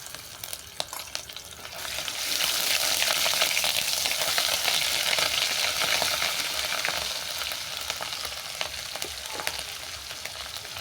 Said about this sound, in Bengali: এই তেলের মধ্যে দিয়ে দিলাম রসুন বাটা